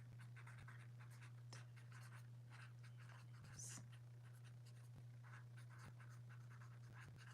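A pen scratching across paper in short quiet strokes and taps, faint against a steady low electrical hum, with no one talking.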